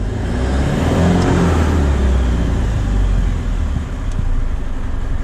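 A DAF LF truck's diesel engine, its EGR valve completely blocked, revs up and holds at high revs, a loud steady roar with a slight dip near the end and no talking.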